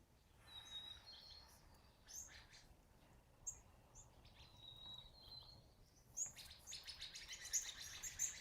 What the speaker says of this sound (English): I've got about a dozen sparrows outside feasting away